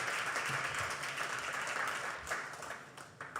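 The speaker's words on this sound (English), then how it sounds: "Please give him a round of applause as he walks up here." Audience applause at an Innovation Hall of Fame ceremony as an honoree walks to the stage, a sustained smattering of clapping that thins out toward the end.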